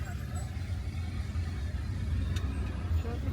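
Road traffic in the Philippines makes a dense, low engine rumble from cars and buses, heard steadily from within the traffic with faint higher noises above it.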